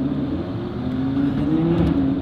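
A car engine revs hard as the car accelerates, a loud, close, steady drone that climbs gradually in pitch without a break.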